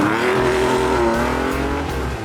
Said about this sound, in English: Now, time for some noise. A new TVR.